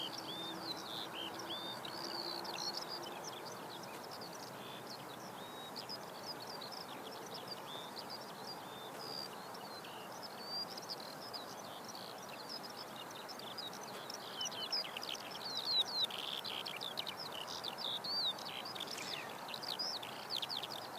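Skylarks sing at a distance near an airport in Christchurch, New Zealand. Their thin, warbling trills run continuously over a steady low hum of ambient noise.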